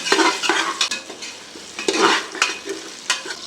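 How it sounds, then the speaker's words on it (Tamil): Onions frying in oil for mutton biryani, stirred with a utensil: a close, lively sizzle broken by repeated scraping strokes and metallic clinks against the pan, with no voices. "ஆனியன் நல்லா ப்ரௌனாக வரணும் அந்த அளவுக்கு வந்து வணக்கிக்கணும்"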